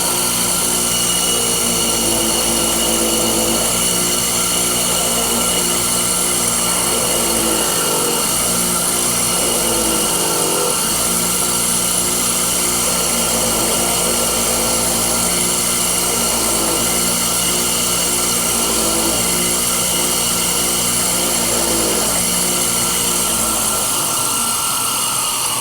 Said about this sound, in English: then we go over here to the wire wheel